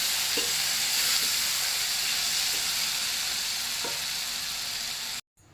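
A steady, loud sizzle of spices frying in hot oil, with a few faint clinks of stirring, cutting off abruptly at the end.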